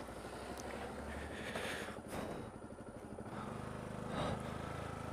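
Yamaha YZF R125 motorcycle being ridden, a steady engine drone mixed with wind rush against the microphone, rising briefly near the end.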